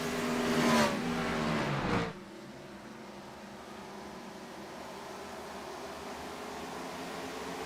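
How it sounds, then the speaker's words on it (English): An IROC series race car runs on the Kansas track, its engine drone loud for two seconds before dropping abruptly to a steady, fainter hum that continues to the end. "he is drifting that race car way up top"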